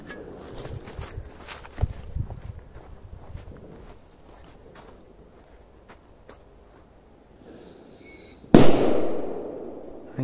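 A big firecracker goes off with one loud, close blast that rings out and decays over a couple of seconds, preceded by scattered footsteps, crunching and a brief hiss of the fuse.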